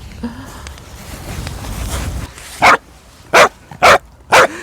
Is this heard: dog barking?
yes